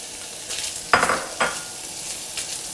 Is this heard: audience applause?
no